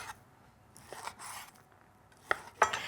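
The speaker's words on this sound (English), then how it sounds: "And then we'll turn it around and then cut them, making sure that they are quite even so they cook" A knife slicing chicken breast into even strips on a board, heard as a few sparse, crisp cuts, two sharper near knocks toward the end, with no talking.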